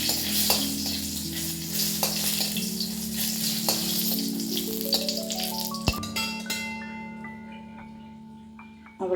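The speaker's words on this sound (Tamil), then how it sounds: "இப்போ நம்ம மிளகாய் வத்தலை வறுத்துக்கலாம்" Dried red chillies roast in a single drop of oil in a pan with a steady, moderate sizzle and light stirring scrapes, close by, without talk.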